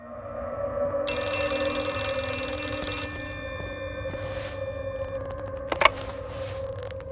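An old telephone rings in a school segment of the horror video game Outlast 2, its bright bell trilling steadily for several seconds over a low ambient drone, with a sharp click near the end.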